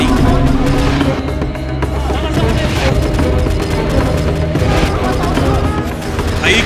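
Rapid gunfire and vehicle explosions from the mobile action game Adventurers form a dense, continuous barrage of shots and booms that keeps up loudly from start to finish.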